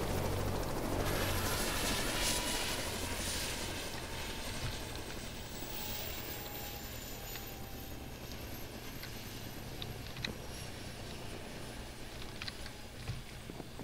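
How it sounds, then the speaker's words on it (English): Helicopter in a Minecraft map video game, a steady droning rotor hum with a faint high whine, continuous and fairly even throughout, no talking over it. "Oh god, I hate helicopters."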